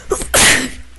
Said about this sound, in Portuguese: Pelo espirro diário.